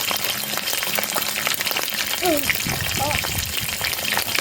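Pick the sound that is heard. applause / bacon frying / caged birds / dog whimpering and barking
bacon frying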